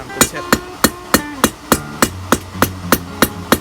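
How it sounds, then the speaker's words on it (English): Steady hammer blows ring out on a steel safety hook being forged, a dozen sharp metallic strikes in an even rhythm, close and loud, each with a brief bright ring as the taper is smoothed round. "high spots made from all those faces from hammer blows, and you just hit those until you get a nice even round surface."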